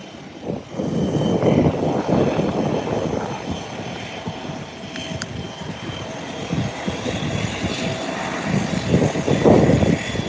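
Bombardier CRJ jet engines spooling up on the ramp with a tug attached, a steady broadband roar that builds early and swells again near the end, continuous throughout with no talk.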